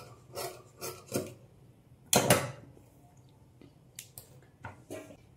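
Scissors snip extra fabric from a blouse in a series of short, close cuts with quiet pauses between, one longer crisp cut in the middle, and no talk.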